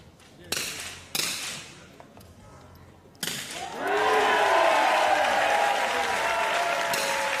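Rifle shots at a 50m prone para shooting competition: two sharp, separate cracks, then a louder impact followed by a sustained swell of crowd applause.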